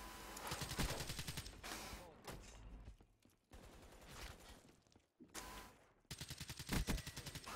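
Bursts of rapid gunfire and rattling shots in Call of Duty: Black Ops 3 multiplayer, in quick succession, loud and dense, with short gaps between volleys.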